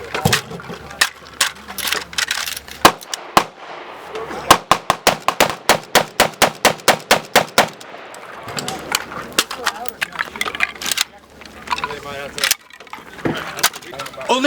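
A Hungarian AK-63D rifle fires a rapid string of sharp, evenly spaced shots, with scattered single reports before and after and talking in between.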